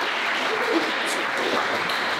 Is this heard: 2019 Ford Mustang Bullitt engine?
no